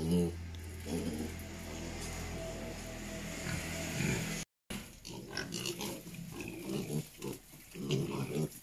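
Tibetan pigs on a farm grunt and snort in a busy cluster close by, with continuous rough low grunting and squeals over a brief cut, against noisy outdoor background.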